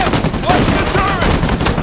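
Gun turret firing in Uncharted 4, a loud continuous burst of heavy automatic fire mixed with game sound effects throughout the short stretch.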